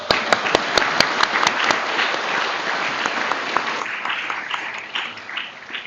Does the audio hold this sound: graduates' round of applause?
yes